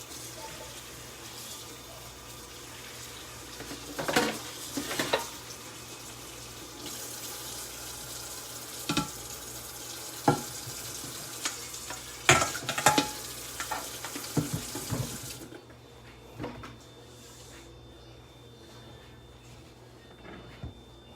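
Canned black beans are rinsed under a kitchen tap, a steady running-water hiss with intermittent clatters and knocks of the can and beans against the sink; the water shuts off near the end, leaving quieter handling sounds.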